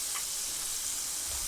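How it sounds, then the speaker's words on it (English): Korean fried chicken coated in corn flour sizzles and crackles in oil over low heat, a steady, close hiss with no voices. "This is lower gas, lower heat frying."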